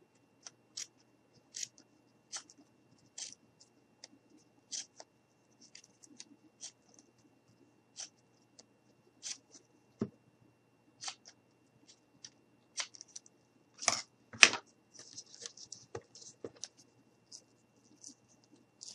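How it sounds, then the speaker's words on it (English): Sharp, scattered snips and clicks of scissors cutting material, irregular and close, with a quick cluster of cuts near the end and quiet gaps between. "grab my scissors, and we're just going to cut off the extra"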